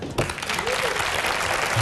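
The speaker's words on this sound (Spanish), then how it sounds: "Fuerte aplauso para él." Audience applause in a Spanish television interview studio, steady dense clapping right after a brief opening, loud and close throughout.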